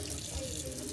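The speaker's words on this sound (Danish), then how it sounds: "Så fylder I et meget varmt vand i og et meget koldt vand." Tap water runs steadily into a container for a children's food-art activity, hot and cold water being added, a continuous close splashing rush with no break.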